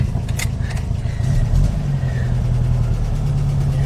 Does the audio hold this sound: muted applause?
no